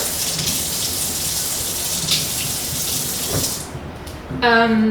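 Water runs steadily from a kitchen tap, a broad hissing splash that wets a kitchen towel wrapped around fresh parsley. It stops abruptly near the end, and a short voice follows.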